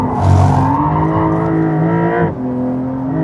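Porsche 911 GTS engine pulling hard under acceleration, a loud, close, steady rising growl with strong harmonics and a brief drop around a gear change before building again.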